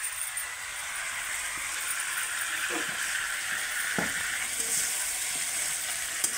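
Chicken curry with turmeric frying in a pan, a steady close sizzle running throughout with a few faint stirring scrapes.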